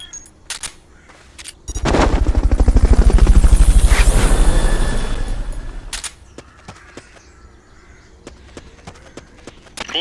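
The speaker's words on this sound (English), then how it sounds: "Fulton recovery helicopter is complete." A Fulton recovery helicopter in Metal Gear Solid: Peace Walker rises into a loud, rapid rotor thump that swells for several seconds and then fades, with sharp clicks and thuds before and after.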